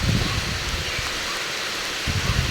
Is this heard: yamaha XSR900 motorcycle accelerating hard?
no